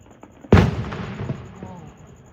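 A single loud gunshot cracks sharply and echoes away, with faint background noise and a steady high-pitched tone throughout.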